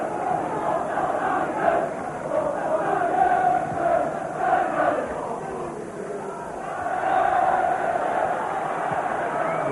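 Several hundred Port Vale supporters chant together in a football crowd at a 1983 match away at Hull City, a loud, steady roar of massed voices rising and falling, swelling again toward the end.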